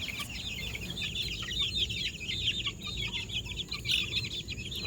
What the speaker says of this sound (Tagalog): yung bagong lipat natin ng mga sisiw.